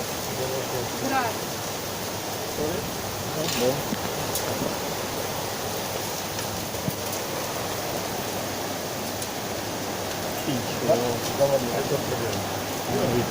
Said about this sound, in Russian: Град.